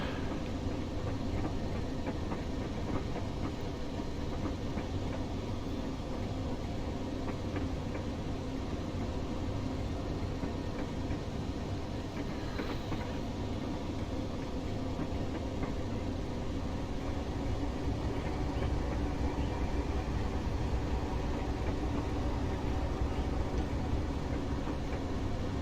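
A Class 31 diesel locomotive in Train Simulator Classic rolls along the Durham to Wearhead line, giving a steady, unbroken rumble of engine and wheels throughout, with no speech.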